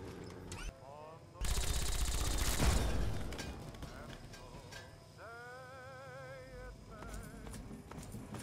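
A sentry gun in Fallout 3 lets off a loud sustained burst of rapid automatic fire for about two seconds, surrounded by other game noises and brief electronic tones.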